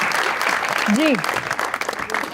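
Studio audience on a television talk show claps in a dense burst of applause while a voice briefly speaks over it, the clapping gradually thinning toward the end.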